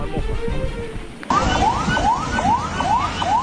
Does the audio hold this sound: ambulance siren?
yes